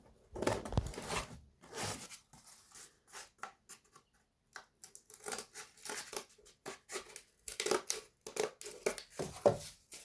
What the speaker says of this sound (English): snip the scissors to work out where the contour should be, and then just cut it accordingly